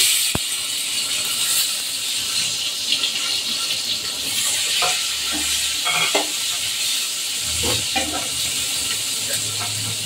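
Tomatoes frying in a hot pan while being stirred: a continuous sizzling hiss with scattered scrapes and clinks of the spoon against the pan.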